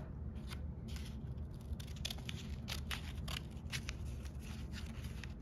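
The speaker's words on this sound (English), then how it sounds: "I'm going to cut right along this crease to the very top" Scissors snip through folded origami paper along a crease while shaping a paper horse, a run of quick, crisp cuts repeating steadily across the clip, close and fairly quiet against a low background hum.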